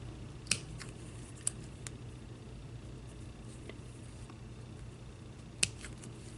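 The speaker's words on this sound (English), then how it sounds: "I'm using my little precision scissors to do this." Small precision scissors snip through lace during an Easter basket candy-holder craft: a few faint, sharp clicks, spaced apart over a quiet room hum.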